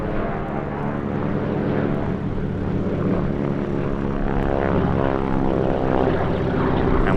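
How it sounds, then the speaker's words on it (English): de Havilland Beaver with a Pratt & Whitney R985 Wasp Junior radial engine, AN variant of about 300 horsepower, at an airshow, giving a loud, steady, throbbing propeller drone that holds unbroken throughout. "in the Beaver, another member of the Pratt & Whitney Wasp family, this time an R985 Wasp Junior"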